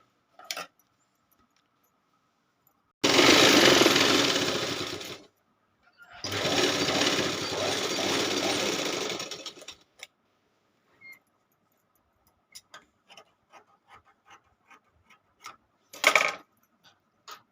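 A sewing machine stitches a quilt made from old saris, running in two loud, close bursts of a few seconds each, followed by scattered light clicks and taps from handling.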